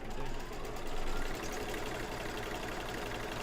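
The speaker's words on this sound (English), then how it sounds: "So let's go back to the machine and stitch this down." An embroidery machine stitches down an appliqué on a Halloween wreath door hanging, a steady rapid mechanical chatter and motor drone throughout, close and continuous.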